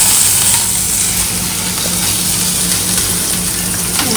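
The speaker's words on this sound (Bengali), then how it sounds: "এবার একটু সতে কর, একটু হালকা ব্রাউন হবে, একটু লাল লাল করে আমরা ভেজে নেবো এবার এটা।" Garlic and green chillies sauté in a pan with a loud, continuous, close-up sizzle that stays even throughout, with no voices over it.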